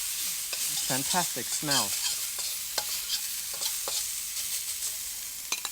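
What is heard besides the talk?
stir-frying spring onions and black beans in a wok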